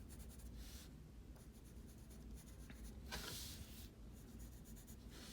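Pencil drawing a human eye on paper, a steady close scratchy scribbling of graphite strokes with brief pauses and one brighter, harder burst of shading midway, no voices.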